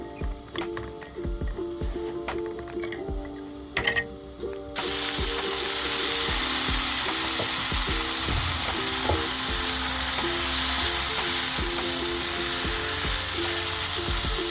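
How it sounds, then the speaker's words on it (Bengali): Vegetables fry in a pan with a steady, close hiss of sizzling oil, layered with a repetitive mechanical clicking and whirring that runs throughout, the sizzle growing louder partway in. "সবজিটা আমার ভাজা ভাজা হয়ে গেল"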